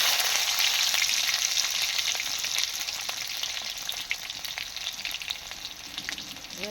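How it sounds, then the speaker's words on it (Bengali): Nigella seeds and whole dried red chillies sizzle in hot oil in a pan, a dense, steady crackling hiss close up that slowly eases, with no talking. "কালো জিরে আর শুকনো লঙ্কা তেলের উপর দিয়ে দিল মা"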